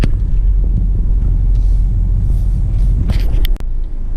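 Manual-transmission car pulling away in first gear without throttle, a loud steady low engine rumble and drone filling the interior, ending with a brief knock and a dip in the noise.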